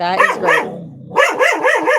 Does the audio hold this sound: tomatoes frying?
no